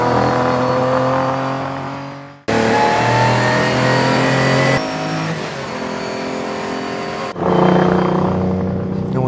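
A Ferrari 250 sports car engine revs hard and accelerates while driving, its strong mid-pitched roar rising through several abrupt gear changes, loud and close with no talking.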